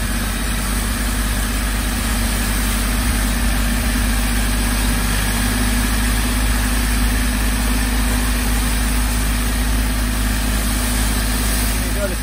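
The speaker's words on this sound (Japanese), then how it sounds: "もうトラクターで引っ張るだけなんでね、すぐ早く終わっちゃいますね。" A tractor engine idles and runs steadily while pulling plastic sheeting over strawberry greenhouses, a constant low rumble that stays loud and unbroken throughout, with a voice talking over it.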